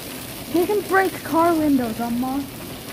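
A person talks over a constant hard patter of hailstones, a steady rattling wash beneath the voice for the whole stretch.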